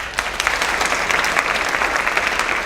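An audience applauds an honor society inductee at a school awards ceremony, a sustained round of clapping from a roomful of people, fairly loud and heard without talk.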